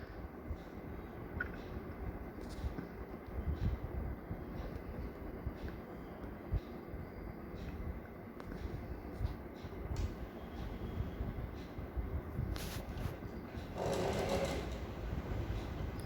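A sewing machine runs steadily for a long stretch, stitching the back piece of a school uniform skirt, with a continuous mechanical whirr and a louder burst near the end.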